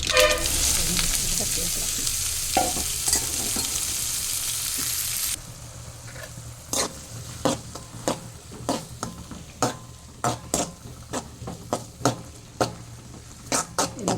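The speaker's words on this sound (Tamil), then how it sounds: "எண்ணெய் ஊற்றியாச்சு கடுகு போட்டாச்சு" Mustard seeds sizzling in hot oil while cooking, a loud steady frying hiss that drops off partway, followed by sharp clicks and pops from the pan.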